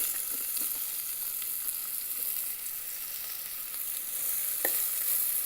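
Onion and red chili flakes frying in an Instant Pot, a steady close sizzle with faint stirring clicks and one sharp spatter near the end, no voices.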